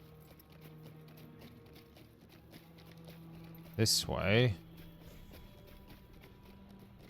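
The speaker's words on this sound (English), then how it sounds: "Now let's get back on our horse." Horse hooves clip-clop while riding in the video game Lord of the Rings Online, a soft steady gait under game ambience, briefly joined by a short spoken phrase.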